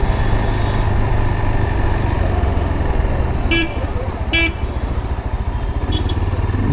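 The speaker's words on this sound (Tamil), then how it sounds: "பட் ஹாரன் ஏன் இவ்வளோ கன்றாவியாக இருக்குது?" A Yezdi Adventure motorcycle sounds its horn in two short honks over a steady engine and road rumble, with a faint third toot near the end.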